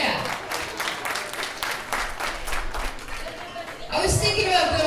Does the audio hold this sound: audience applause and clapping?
yes